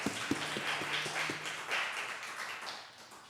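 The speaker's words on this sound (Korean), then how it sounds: "우리 선하신 하나님께 감사와 영광의 박수 올려드리겠습니다" A congregation claps together during a Sunday afternoon worship service at a Korean Presbyterian church in Madrid, a steady wash of applause with a few sharper taps near the start.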